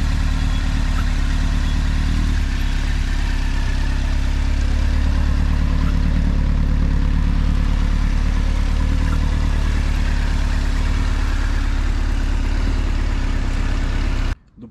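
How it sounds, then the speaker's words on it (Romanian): Motorcycle engine running steadily and loudly throughout a rolling burnout practice, a close, sustained low drone with a slight rise in pitch midway, cutting off abruptly at the very end. "Cu ajutorul la ambreiaj controlăm durațiile la motor, dar în timpul ăsta frânăm."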